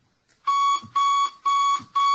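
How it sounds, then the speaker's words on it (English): An alarm clock rings loud and close, its shrill electronic beeps repeating in four even bursts after a moment of quiet. "Yeah, I set my alarm."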